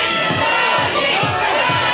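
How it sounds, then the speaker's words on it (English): Wrestling crowd at the Sportatorium during a CWF Mid-Atlantic tag match, a dense continuous roar of cheering and shouting that swells steadily and stays loud throughout. "Crowd here at the Sportatorium has come up."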